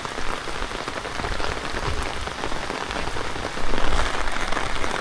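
Steady morning rain pours down, a dense, even hiss of drops hitting surfaces close by, growing slightly heavier toward the end with no voices.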